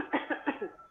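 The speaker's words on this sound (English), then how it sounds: "he brought out a nice cough" Several short upper-airway coughs, roughly four bursts in quick succession, demonstrated close-up in a paediatric cough teaching session, with nothing else around them.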